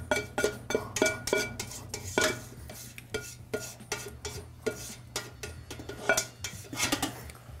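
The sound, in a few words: emptying out a saucepan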